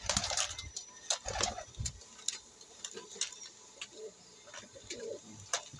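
Pigeons coo softly in short, repeated bursts, with faint ticking and rustling noises scattered between the calls.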